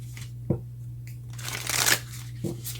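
A deck of tarot cards is shuffled by hand, a few crisp riffling bursts and soft taps close up, quiet with a faint steady hum beneath.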